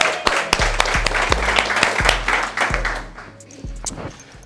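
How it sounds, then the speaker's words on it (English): A live audience at a real estate talk applauds loudly and close, with sharp claps over low thumps, fading toward the end. "So let's clap it up for Liliana again"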